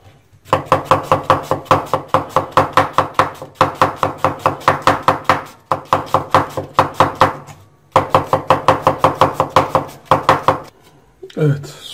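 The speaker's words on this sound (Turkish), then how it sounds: "soğanlarımızı evvela kıyıyoruz" Onions being chopped with a knife on a cutting board, a fast steady run of sharp knocks in several long bursts with brief pauses, close and loud.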